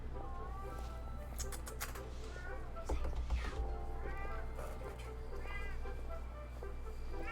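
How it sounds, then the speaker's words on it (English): Ghost the cat meows and whines repeatedly, with several drawn-out, wavering cries spread across the stretch over a low steady hum, while a person's voice talks in the background. "Come here. Come here. I'm getting the cat over here."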